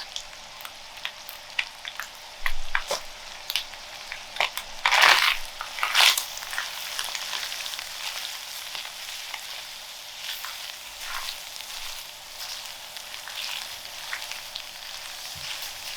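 Stuffed shells filling being mixed in a bowl, close crunchy scraping and squishing strokes with a burst of heavier churning midway, then lighter intermittent stirring sounds.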